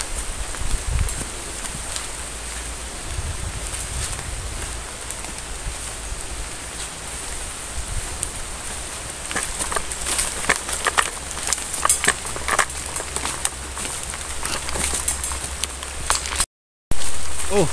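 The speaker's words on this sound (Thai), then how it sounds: "ฝนลงมาแล้วทันไหมไม่รู้นะครับ" Rain begins falling outdoors during a military patrol's withdrawal to base, a continuous hiss of drops on leaves and surfaces that thickens partway through, with scattered rustling and patters.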